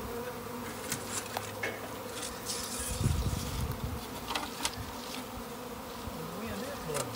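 A dense, steady buzz of a honey bee swarm hangs around a hive box in a tree, continuous and close, with wind noise and faint background sounds mixed in.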